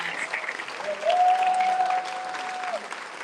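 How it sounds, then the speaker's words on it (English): A conference audience applauds steadily and loudly, dense clapping filling the room throughout, with a sustained tone ringing beneath the middle stretch. "please, please, please, let's give these people a wonderful applause."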